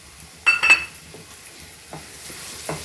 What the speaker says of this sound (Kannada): ಇದೆಲ್ಲದನ್ನು ಹಾಕ್ಕೊಂಡು ನೀಟಾಗಿ ಮಿಕ್ಸ್ ಮಾಡ್ಕೊಳ್ಳೋಣ